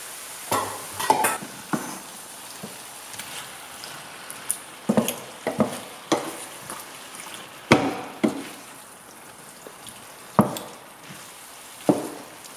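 Sherry and tomatoes go into a hot pan for vegan ropa vieja and are stirred, giving a soft steady sizzle broken by repeated scraping and knocking strikes of a utensil against the pan, fairly close and with no talking.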